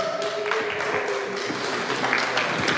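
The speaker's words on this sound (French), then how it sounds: "Ah oui, on peut l'applaudir, David Mutin." An audience at an official jersey presentation for a women's team applauds in sustained, moderately close clapping for David Mutin, with a tonal hum and faint background voices mixed in.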